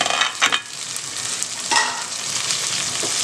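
Tomatoes cook and get stirred in a pan while a chicken dum biryani is being prepared, giving a steady broadband sizzle with a few louder scraping stirs near the start and again around the middle, and no voices.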